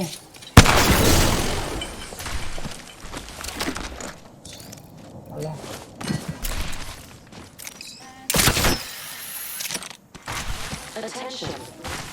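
Gunfire in the battle royale video game Apex Legends: repeated loud bursts and booming shots of a firefight in a town, with someone talking over the clatter throughout.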